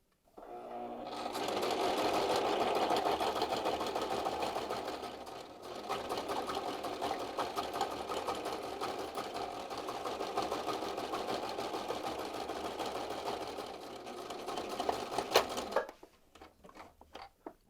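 A sewing machine about ten years old stitches ordinary fabric for a tabard, running in a steady, close, buzzing mechanical whir with a brief pause midway and a stop near the end.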